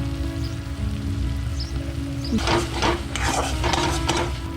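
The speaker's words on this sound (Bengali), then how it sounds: "সেদ্ধ মটরগুলো দিয়ে দিলাম। দিয়ে ভালোভাবে নাড়াচাড়া করে নিলাম।" Boiled peas stirred in a pan for a vegetarian pea and paneer dish: a soft steady cooking hiss, then from midway a run of close scraping and stirring strokes.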